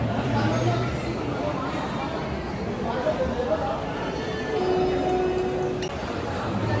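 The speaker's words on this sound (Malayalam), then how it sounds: "ആഗ്ര റെയിൽവേ സ്റ്റേഷനിലെത്തിയിട്ടുണ്ട്" Steady rumble of Agra Cantonment railway station with a train present, low mechanical drone and faint squeals throughout, constant and fairly loud.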